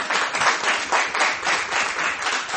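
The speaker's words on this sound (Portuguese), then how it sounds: "Aplaude bem forte o nome do Senhor." A church congregation claps loudly together at a worship service, a dense, steady wash of many hands with gentle swells, close and continuous with no talk.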